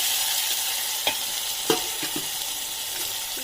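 Chopped onion fries in a pan under a steady bright sizzle, with a few sharp scraping knocks of a spoon stirring against the pan spaced through the clip.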